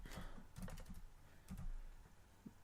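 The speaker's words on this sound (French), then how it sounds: "Il va falloir taper la commande suivante, Fastboot, Flash, Recovery." A command typed on a computer keyboard to flash a recovery image onto a Redmi Note 2 phone, heard as quiet, close, irregular key taps in short bursts.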